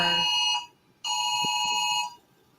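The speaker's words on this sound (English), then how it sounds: "That is an Amber Alert." A phone blares an Amber Alert emergency tone, a harsh steady electronic buzz sounding twice with a short gap, loud and near.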